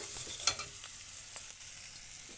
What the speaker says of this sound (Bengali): টমেটো ভেজে নিচ্ছি